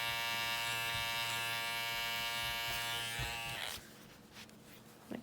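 Electric hair clippers giving a quick kitchen cleanup cut at home, a loud close steady buzz that cuts off partway through, followed by faint handling noises.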